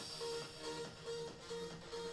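Beatboxed vocal cover of Adagio for Strings, with a voice imitating a rolling bass line and repeating short tonal pulses in a steady rhythm, close and fairly quiet.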